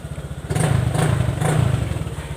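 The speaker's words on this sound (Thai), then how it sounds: "อันนี้ก็เอาให้มันติดแล้วนะจะฟังเสียงเครื่องว่า เครื่องมันเงียบไหมนะครับ" A Honda Click 150 scooter with a worn battery starts and keeps running, its small engine giving a steady, fairly loud putter with a few swells in level. No one speaks.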